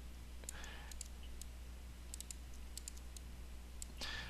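A computer mouse clicks several times at close range: quiet, sharp, separate ticks scattered at irregular intervals over a low hum, with no talking.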